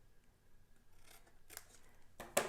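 Scissors snip through the tab of a small paper treat bag in a few quick cuts, faint at first, then a louder, crisp final snip near the end, with no talking.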